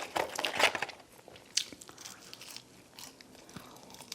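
Someone eats crispy salty Wendy's fries and a hamburger on soft bread, with close, soft crunchy bites and chewing in irregular bursts, no talking.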